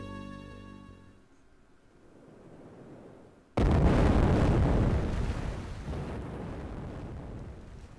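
A rocket crashes on Earth in the Magical Starsign video game: soft game music gives way to a sudden loud explosive burst, followed by several seconds of heavy, roaring, rumbling noise that slowly eases.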